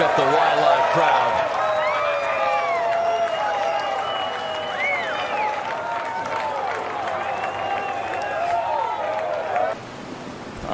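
A golf gallery at Waialae during the first round of the 2024 Sony Open cheers and applauds a shot, a sustained swell of crowd noise with excited voices, while commentators talk over it.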